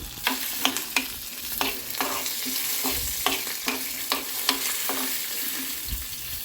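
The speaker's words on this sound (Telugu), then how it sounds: "ఇలా మనం శనగపప్పులు వేద్దాం ఒక రెండు స్పూన్లు శనగపప్పులు వేసినాం" Chana dal fries in a pan with a continuous sizzle while a spoon stirs it, giving regular light scraping taps about every half second, close and alone without speech.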